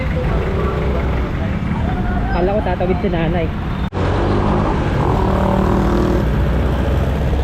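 Steady road and traffic rumble surrounds a Yamaha Aerox v2 scooter riding through congested traffic on Aguinaldo Highway in Cavite. The noise is loud and continuous, with a rider talking over it and a brief dropout midway.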